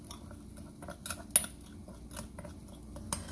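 Quiet clinks and light scraping of a utensil against a dish as salt and garlic salt are stirred together in equal parts, a few soft taps scattered through the clip with no talking.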